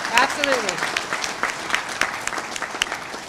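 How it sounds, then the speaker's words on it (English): Applause from an audience at a 2011 annual general meeting honouring a city drivers' association, a steady patter of many hands clapping at moderate volume with scattered sharper claps throughout. "you deserve a hand of applause for that"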